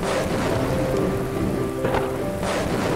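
Heavy storm with steady pouring rain and rumbling thunder in a Bengali horror cartoon, a dense continuous wash of rain that stays loud throughout with brief swells of wind and thunder.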